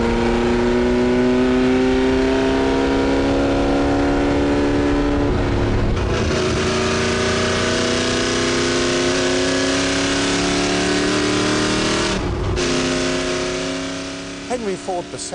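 A Ford GT40 racing sports car engine revs loudly and continuously, its pitch climbing and falling through repeated gear changes, with a narrator talking over it throughout.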